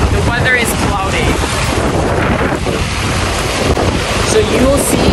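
Strong wind on the beach at Boracay's Station 1, cloudy weather, waves nearby: a steady roar of wind buffeting the microphone over surf wash, continuous and loud throughout, with faint voices underneath.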